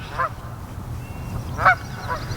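A Canada goose honking at a lake, three short nasal honks spaced apart over faint outdoor background noise.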